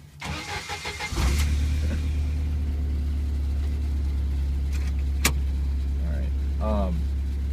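A 1991 Jeep Wrangler with about 91,000 miles starts out on a rocky road: a brief rattle, then a steady low engine rumble close by, with a sharp knock and brief voices partway through.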